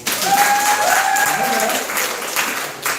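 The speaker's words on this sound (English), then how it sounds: "You can clap." Audience at a poetry slam clapping, a sustained burst of applause with a voice and some tonal sounds over it.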